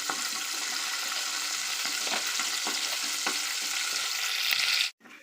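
Cumin seeds and curry leaves fry in hot oil with a dense, continuous sizzle and faint stirring taps, close and steady before cutting off abruptly near the end.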